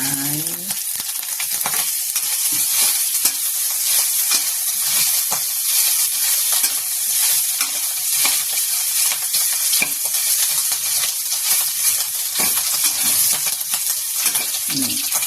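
Meat for a Thai red curry sizzles loudly and steadily in its own rendered fat, a dense crackling hiss that holds throughout with faint speech at the start.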